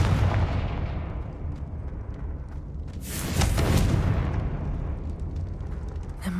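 A Confringo fire spell erupts in Hogwarts Legacy, a blast swelling midway over a rumbling backdrop of crackling bursts, with no voices heard.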